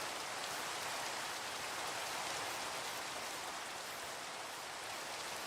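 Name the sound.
rain falling in Minecraft video game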